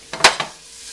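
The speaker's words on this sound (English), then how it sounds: "So I'm gonna throw in all the ginger and garlic and shallots." Ginger, garlic and shallots hit a hot pan with a quick burst of sizzle, a couple of short crackling surges that fade within a second.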